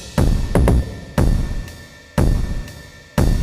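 Electronic track in Ableton with a full drum layer: kick, ride and crash cymbals hit in a steady loop, loud punchy hits roughly every second with bright cymbal wash between, no voices.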